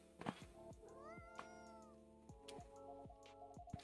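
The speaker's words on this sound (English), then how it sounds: "Aw, poor kitty. Did the machine wake you up?" A cat meows in the café game Coffee Talk 2, several short, clear meows in a row over soft background game music, close and fairly quiet.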